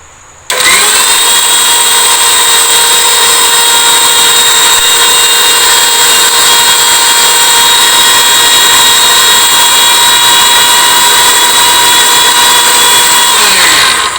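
An electric kitchen grinder runs steadily while grinding homemade garam masala spices, giving a loud, continuous high-pitched motor whine with strong harmonic tones that starts abruptly and holds for the whole stretch, with no voices.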